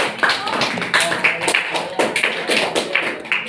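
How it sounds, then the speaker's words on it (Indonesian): Classroom applause for a student group after a lesson presentation, a loose patter of hands clapping in uneven bursts, fairly close and moderately loud, with some student voices mixed in. "Tepuk tangan untuk"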